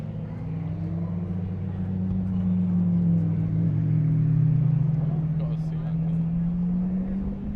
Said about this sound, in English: Lamborghini parade coming up now, as you can see.